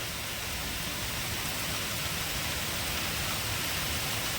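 Steady, dense roar of heavy rain pouring down, constant and enveloping with no pauses or voices.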